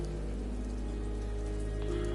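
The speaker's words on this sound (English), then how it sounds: "But then the rain began to fall." Rain falls in the Ender Lilies video game, a steady even patter with a low sustained tone beneath it, constant and moderately quiet.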